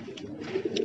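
Pigeon cooing near scattered grain at a home rooftop, a short sequence of soft low coos with a couple of brief higher chirpy accents, close and alone without talk.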